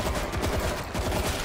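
Rapid automatic gunfire from a weapon in the zombie shooter World War Z, a dense, fast stream of shots that runs without a break from start to finish.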